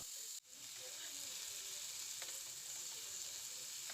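Chicken pieces fry in hot oil in a steady, close, bright sizzle that holds evenly throughout, with a brief dip near the start and no talking.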